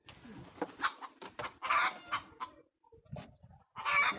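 Chickens cluck in bursts on a Moroccan farm where bread is baked in a wood-fired oven, with short gaps of quiet between the calls and a few louder squawks near the end, close and clear.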